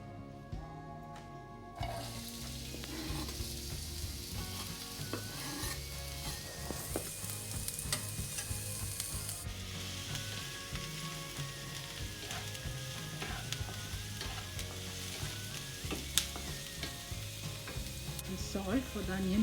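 Onions frying in oil in a pan give a steady, continuous sizzle, close and moderately loud throughout, with light stirring noises in the mix.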